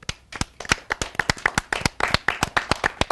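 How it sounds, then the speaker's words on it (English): Studio audience on an Indian talk show clapping in a short burst, sharp separate claps in a quick uneven rhythm, fairly close and clear, with no talk over them. "So round of applause"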